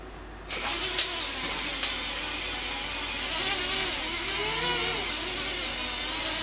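A small drone motor on a custom ESC, held in the hand, starts abruptly and whines steadily, with a rising and falling tonal pitch over a constant buzzing drone, close and fairly loud.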